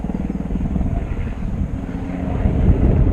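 A low, steady rotor and engine drone of a firefighting helicopter overhead at a wildfire in Middletown, California, swelling slightly louder toward the end, with wind rumble and no talking.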